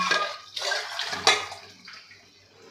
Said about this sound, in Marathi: इथे मी अजून अर्धा ग्लास पाणी घालणार आहे कुकरमध्येच घालून